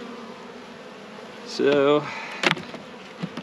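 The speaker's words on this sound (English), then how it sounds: "these bees are just coming in to rob the hive" Honeybees robbing syrup from an opened hive during a detailed inspection, a steady buzzing drone with a louder close pass of a bee, and someone speaking briefly.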